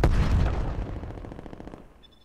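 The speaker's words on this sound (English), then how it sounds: "Throwing frag." A frag grenade explodes in a Call of Duty Cold War match, a loud close blast with a sharp onset that rolls into a long rumbling, crackling decay over about two seconds, with a faint tonal chirp at the end.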